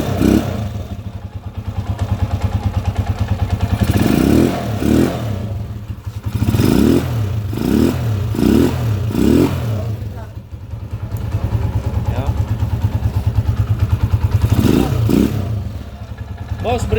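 A rebuilt TMX 155 motorcycle engine with a new connecting rod and rebore idles with a steady low chug, repeatedly blipped into short revving bursts, with a voice talking over it nearby.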